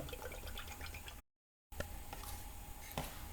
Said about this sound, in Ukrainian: В ємкість, де буду збивати, виливаю вершки.